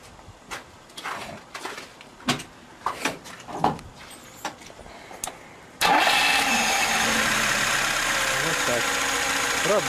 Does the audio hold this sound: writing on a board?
no